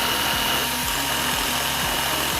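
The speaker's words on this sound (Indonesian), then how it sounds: "Ini bor beneran nih, saya tes nih." A power drill runs steadily against a watch as a durability test, droning loudly throughout with a repeating rhythmic thump under the whine.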